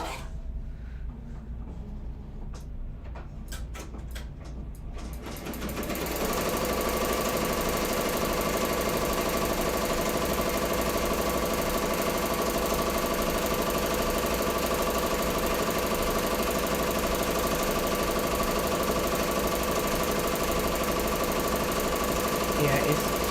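An embroidery machine stitches a design onto a tee, starting with faint intermittent ticks before settling into a steady, loud, continuous mechanical hum and rapid needle chatter that runs on without pause.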